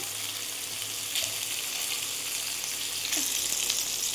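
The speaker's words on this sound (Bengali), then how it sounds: "মাছগুলোকে উল্টে পাল্টে সুন্দরভাবে আমরা ভেজে নেব।" Pieces of katla fish fry in hot oil in a pan for a Bengali malai curry. A steady, close sizzle with soft crackle runs throughout, with a few faint clinks and stirring touches and no voices.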